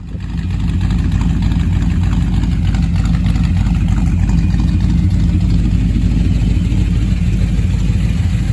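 A 1963 Pontiac Star Chief with a newly swapped Turbo 400 transmission running steadily: a loud, close, deep engine rumble with an even idle throb that holds unbroken after a brief start.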